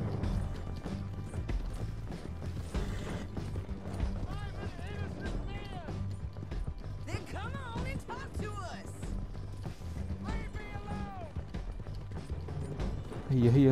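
A horse gallops in the video game Red Dead Redemption 2, its rhythmic hoofbeats steady beneath game music and effects while a player talks over it.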